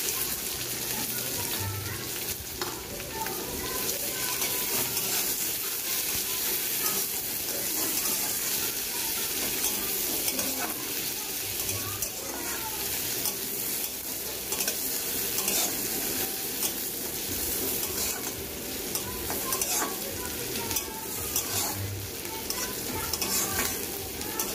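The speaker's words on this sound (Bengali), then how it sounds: "পেঁয়াজটা খুব ভালো করে ভেজে নেব।" Chopped onions sizzle steadily in hot oil with dried red chillies, bay leaf and whole cumin in a pan, getting a dal tempering ready, while a spoon scrapes and stirs through them repeatedly under a constant frying crackle.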